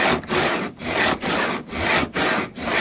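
A metal file rasps across guitar fret ends on a Westone Concord during a refret, making about six steady back-and-forth strokes, each a close, loud scrape separated by brief pauses.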